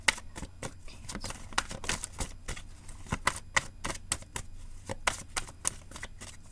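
Tarot cards are shuffled and pulled, giving quick, crisp flicks and soft snaps in an uneven rapid rhythm, close and fairly quiet with no talking.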